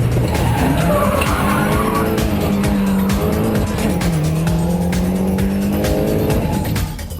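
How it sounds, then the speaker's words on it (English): A Mini Coupe race car spinning out during a race, with loud tires skidding and squealing over a howling engine whose pitch swoops and falls, while a faint voice can be heard under it. "suddenly he spins out of control and drops back in the field"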